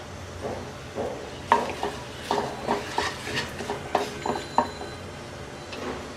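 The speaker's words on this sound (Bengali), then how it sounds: "শুকনো মরিচটা হালকা একটু ভেজে নিচ্ছি" Dried red chilies and bay leaves fry in oil in a pan, giving a soft steady sizzle broken by repeated scrapes and clinks of a stirring spoon against the metal.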